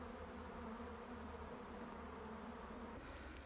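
A faint, steady buzzing of honeybees around a hive hums continuously and evenly throughout, with no voices.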